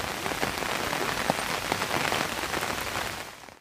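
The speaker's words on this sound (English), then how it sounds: "the rain was actually pouring down" Heavy rain pours down in a dense, constant hiss with scattered sharper drop impacts, loud and close for the whole stretch before easing slightly at the end.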